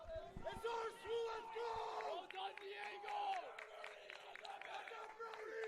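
A soccer player on the bench at a men's college match against King on senior night shouts and cheers his teammates on, loud voiced yells rising over a busy crowd with steady background noise throughout.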